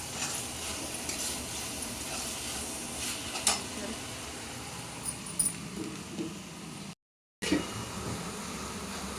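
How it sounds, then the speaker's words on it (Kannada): Chicken liver sizzling and frying in a pan for a home-cooked liver gravy, a steady close hiss with occasional stirring clinks and a brief dropout, while a voice talks faintly. "ಈಗ ನೋಡ್ತಿರ್ಬೋದು ಲಿವರ್ ಫ್ರೈ ಆಗ್ತಿದ್ದೆ"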